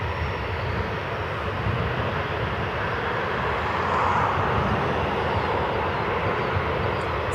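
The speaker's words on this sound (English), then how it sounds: "So UPS 5442, a heavy 767 out of Louisville, Kentucky." A UPS Boeing 767 heavy jet out of Louisville roars steadily at an airport, a continuous broadband engine rumble that swells slightly midway, loud and sustained with no talk.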